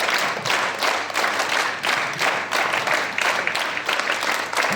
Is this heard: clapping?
yes